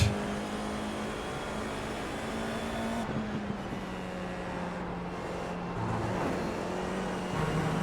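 A Formula 4 car at Oulton in iRacing drones steadily at high revs, the engine tone dipping and climbing through gear changes, with no voices over it.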